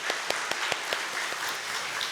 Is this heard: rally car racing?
no